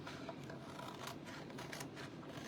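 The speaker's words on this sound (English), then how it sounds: "I am using my transfer trimmers because these are special scissors" Faint, quiet snipping of non-stick craft transfer-trimming scissors, a few soft crisp cuts through a transfer close by against a low background hiss.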